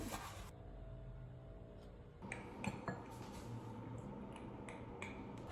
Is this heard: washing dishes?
yes